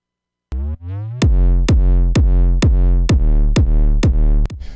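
Deep bass notes and punchy kick drums in a remix repeat on a steady beat. The bass ducks in volume under each kick from sidechaining, which gives a clean pumping rhythm.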